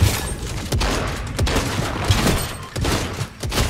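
Shotgun firing in the video game Fortnite, a rapid series of loud sharp blasts spaced a fraction of a second apart amid chaotic battle noise.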